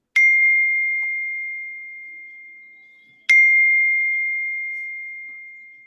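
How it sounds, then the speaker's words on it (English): A computer notification chime rings twice, about three seconds apart. Each bright, clear ding starts sharply and slowly fades out against silence. "Oh, that's my computer going off."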